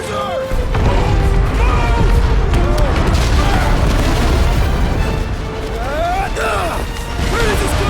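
A big in-game explosion in Guardians of the Galaxy: a continuous loud roar of blasts, crashing debris and rumble, with characters shouting over it throughout.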